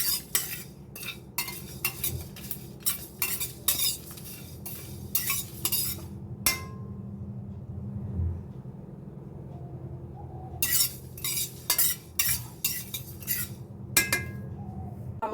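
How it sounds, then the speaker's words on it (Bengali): Fennel seeds, panch phoron and dried chilies dry-roasting in a pan, stirred with a metal spatula in bursts of rapid scraping and clinking, separated by quieter pauses, close and moderately loud. "মৌরি নেওয়া হয়েছে দিয়েছি, আর শুকনো লঙ্কা, 5 ফোড়ন আর শুকনো লঙ্কা নিয়ে নেবো, ভালো করে ভেজে নিচ্ছি।"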